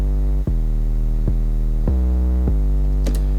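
A lone 808 bass line sounds as a deep, sustained sub-bass tone that slides to a new pitch about four times, loud and steady with no other instruments.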